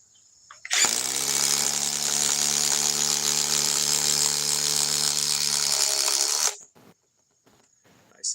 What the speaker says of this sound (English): It's going to be like Sugar Ray Leonard of subcompact impact wrenches.